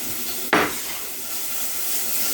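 Chopped onion drops into a pot of melted vegetable shortening with one sharp burst of sizzling that settles into a steady, close frying hiss.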